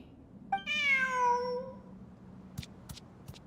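A cat in the video game Genshin Impact gives a single clear, drawn-out meow, close and prominent, followed by a few faint clicks and taps.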